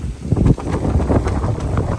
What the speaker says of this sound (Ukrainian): Але такий вітер і сильний, сильний сніг такий.